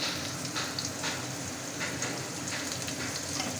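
Chunks of potato frying in a pan with onion and green chilli, giving a steady, even sizzle and crackle throughout, close and continuous with no talking.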